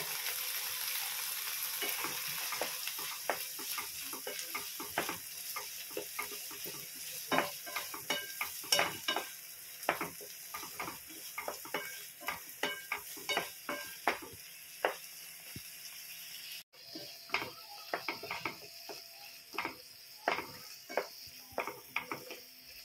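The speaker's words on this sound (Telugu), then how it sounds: "ఈ వేగుతున్న బఠానీలోకి మనం టమాటో ప్యూరీ అయితే వేసుకుందాం" Peas frying in a pan with tomato puree added, stirred steadily with a spoon: a long run of close scraping and clinking strokes over a constant sizzle, with no voices.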